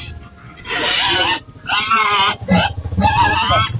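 A pig squeals in four loud, wavering bursts separated by short pauses, with faint voices in the background.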